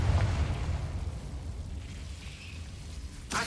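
Confringo blasting spell exploding in Hogwarts Legacy, a loud low boom at the start that rumbles and fades over a few seconds, followed by a sharp burst at the end.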